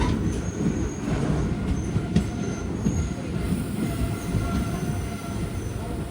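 Silambu Express rolling into Karaikudi Junction, a steady broadband rumble of railcars with wheel squeal and faint clickety-clack running continuously at close range.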